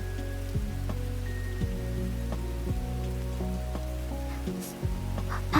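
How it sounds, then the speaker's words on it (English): Video game rain ambience gives a steady wash of rainfall on surfaces, layered with low, sustained musical tones that shift every second or so, constant and even throughout. "I'm sure you guys hear the rain background from the game"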